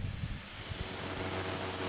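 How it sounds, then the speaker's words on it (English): Steady broadband whoosh of an Intel computer's cooling fan, constant and fairly loud with a faint low hum underneath, no voices. "So that's the noise of the Intel computer."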